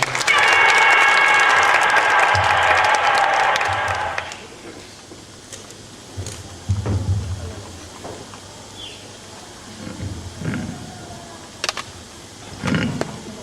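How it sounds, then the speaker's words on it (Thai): Audience applause at a Thai student debate on abortion rights, a burst of clapping for about four seconds that fades out, followed by quiet room noise and a few soft thumps. "ขอเสียงปรบมือด้วยครับ"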